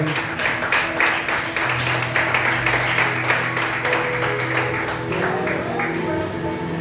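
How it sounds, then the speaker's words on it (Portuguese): Congregation applause during a church worship service, steady dense clapping sustained across the whole stretch, with a low held tone and faint voices underneath. "Dê uma ligação de palmas para Jesus."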